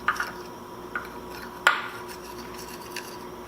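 A spoon stirs milk into soft dumpling dough in a mixing bowl, giving a few faint clinks and scrapes against the bowl over a quiet background.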